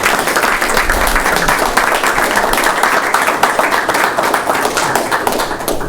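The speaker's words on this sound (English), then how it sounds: "Big round of applause." An audience at a county board of education meeting applauds steadily for about six seconds, a dense, loud wash of many hands clapping at once.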